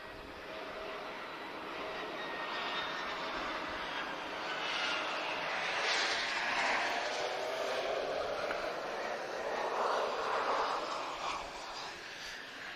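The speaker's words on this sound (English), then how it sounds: "So another Embraer from TAP Express" A TAP Express Embraer airliner at Lisbon Airport makes a sustained jet roar that swells and fades over several seconds as it passes at moderate distance, with a faint whine over the rushing engine noise.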